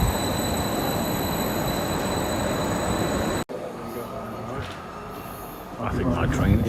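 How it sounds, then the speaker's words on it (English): A Greater Anglia train arrives at a station platform on the Ipswich to Norwich line with a loud, steady rolling roar and faint squeals. After a sudden cut the scene goes quieter, and a voice talks near the end. "I think my train is coming."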